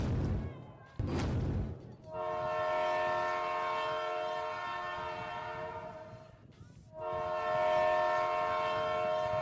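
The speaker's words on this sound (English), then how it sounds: "I like the train horn." A loud, sustained train horn at a girls' varsity lacrosse game blares twice in long held blasts, after a brief rumble, with a crowd noise underneath.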